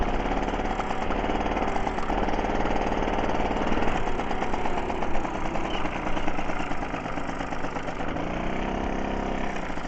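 A Solex 5000 moped engine runs steadily at idle while warming up with the choke on, a continuous close buzzing drone that holds for the whole stretch with a slight shift in tone near the end.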